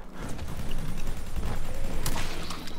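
Gunfire in Call of Duty Shadows of Evil, a dense, continuous roar of shooting and rumbling blasts, loud and close, with one sharper crack near the end.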